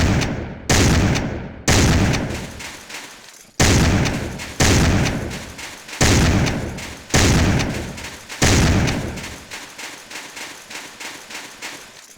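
A shotgun firing in Soldier of Fortune II Unreal Edition: a string of loud, close blasts about a second apart, each with a short decaying tail, then a few softer shots near the end.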